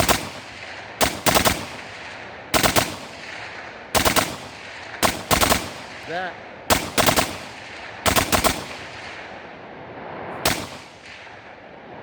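A BAF rifle fires repeatedly outdoors, loud close-up cracking shots in paired and single bursts spaced about a second or two apart, with a brief word spoken between shots.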